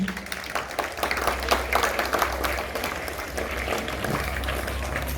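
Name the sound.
applause for the school ceremony officers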